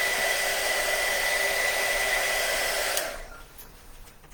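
A heat tool blows on craft paint, a loud steady whooshing drone held for about three seconds before it cuts off and leaves only quiet room sound.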